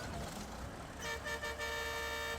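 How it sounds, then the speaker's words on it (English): A truck horn in the SnowRunner video game sounds one sustained honk partway through, over a continuous engine hum. "Give it a good honk."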